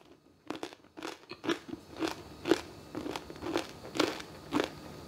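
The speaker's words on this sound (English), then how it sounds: "I'm gonna take a first bite here." Crunchy air-fried pork belly being bitten and chewed close up, a series of about eight sharp, crackling crunches in a fairly regular rhythm with no talking.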